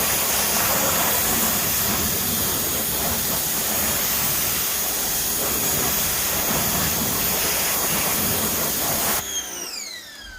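Hose nozzle spraying water to rinse a car's wheel wells, a loud steady hiss of spray held close for about nine seconds before it cuts off, leaving a brief squeaky tail.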